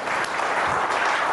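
Loud, dense applause from a crowd welcoming the chairman of B.P. Marine Academy, a continuous roar of clapping across the whole short stretch with no talking.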